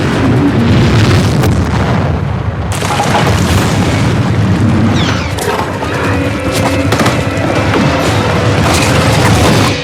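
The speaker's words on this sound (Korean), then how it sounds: "리버스 익스플로전, 건물이 역행 폭발하는 장면까지 연출" A loud, rumbling film explosion of a building, played in reverse, swells and roars, with crackling debris and deep booms filling the scene; no talking.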